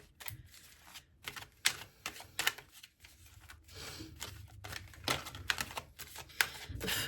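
A Mystic Mondays tarot deck being shuffled, giving repeated crisp riffling bursts of cards with brief pauses between, close and fairly quiet, no talking.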